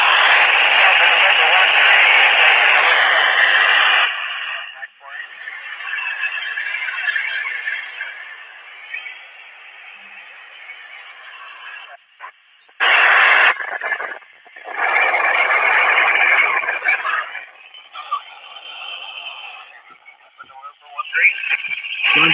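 An amateur radio transceiver receives a satellite contact while being retuned for Doppler shift. Loud bursts of hissy static and radio voice alternate with abrupt near-silent gaps.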